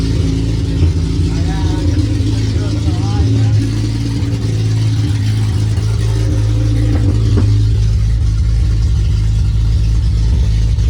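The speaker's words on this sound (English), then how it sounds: "that car is so loud, bro. It's crazy." A loud, overheating turbocharged Honda Civic engine rumbles and revs close by, its low roar rising and falling, with people talking over it.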